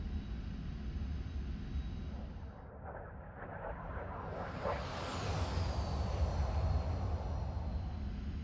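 Su-25 ground-attack jet in the DCS flight simulator flying low down a trench, a steady loud engine roar with a rising whine and rushing air that swells toward the end.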